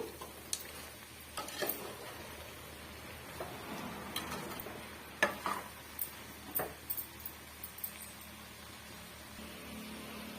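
A spoon stirs chicken and potatoes coated in masala in a pan, giving scattered soft ticks and scrapes at an irregular pace over a quiet background, with no talk.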